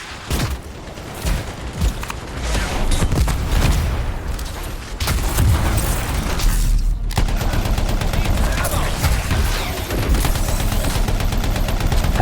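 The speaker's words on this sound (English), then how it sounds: "Okay, someone's shooting at me." Video game Anthem firefight: dense, continuous gunfire with rapid automatic bursts and occasional booms, loud throughout, with a speaking voice partly under the shooting.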